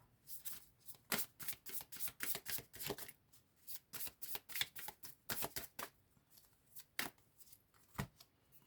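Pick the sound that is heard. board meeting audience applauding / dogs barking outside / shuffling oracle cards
shuffling oracle cards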